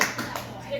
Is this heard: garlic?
no